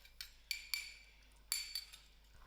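A spoon stirs spicy Mexican soup with beans, corn and tomatoes in a pot, giving a few sharp metallic clinks at uneven intervals against a quiet background with no talking.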